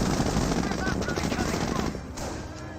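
Rapid bursts of gunfire and explosive thuds from a mortar half track firing in Company of Heroes battle, a dense, loud, continuous barrage with layered shots throughout.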